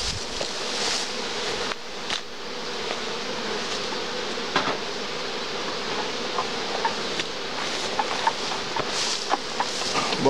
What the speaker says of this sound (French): il y a plein d'abeilles partout